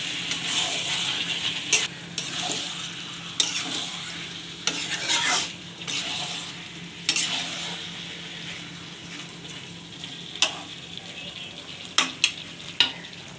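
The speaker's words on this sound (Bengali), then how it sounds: "মাংসগুলো আমার কষানো হয়ে গেছে।" Mutton with chopped tomato, papaya, whole garlic and slit green chillies stir-frying in a pan: continuous sizzle broken by repeated sharp scrapes and clacks of a spatula, close and fairly loud.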